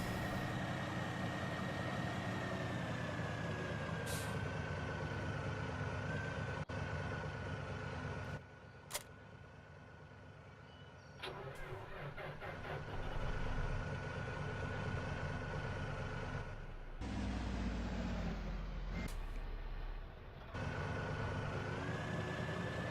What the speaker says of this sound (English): We should, anyway, have enough horsepower with this tractor to pull our ripper.